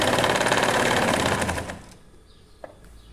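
Sewing machine running fast while stitching the waistband seam of a pair of panties, a dense steady mechanical whir for under two seconds that then stops, leaving quiet room tone with a brief click.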